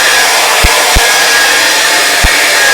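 A hair dryer blows hard and loud to dry paint on a canvas, a continuous whooshing roar with a few faint low knocks underneath.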